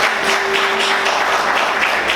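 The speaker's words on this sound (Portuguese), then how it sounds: "Vamos aplaudir o Senhor com bastante alegria" Dense, steady applause from a church congregation fills the whole stretch, loud and continuous, with no voices standing out.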